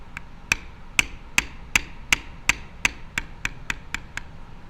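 Metal beveling tool struck repeatedly against leather being tooled, about thirteen sharp, evenly spaced taps at a steady rhythm, close and clear with no talking.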